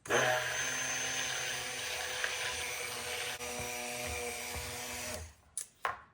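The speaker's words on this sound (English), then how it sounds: "All right, we're ready to blend our fragrance and walnut shells." A stick blender whirs steadily through soap batter mixed with fragrance and walnut shells, a close, even motor drone that cuts off after about five seconds, followed by a couple of short clunks.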